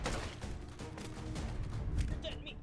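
Rapid gunfire from the H3VR virtual-reality shooting game, a dense run of sharp overlapping shots that stays fairly loud throughout, with a voice partly mixed in.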